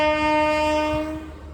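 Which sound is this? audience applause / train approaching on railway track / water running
train approaching on railway track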